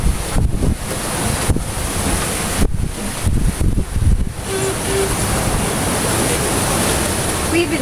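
Waves splash against a sailboat's cockpit at sea, with loud, steady wind rush and broadband water noise throughout and brief dips between surges.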